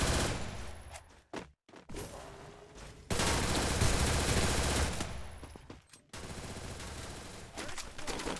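Rapid automatic gunfire rattles in bursts during a multiplayer shooter video game, with loud sustained volleys broken by short pauses and no talking.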